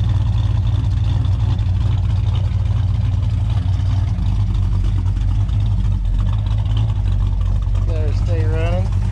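An old car engine with a slightly lumpy cam idles in a steady, loud, low rumble close by, and a brief voice-like tone rises over it near the end.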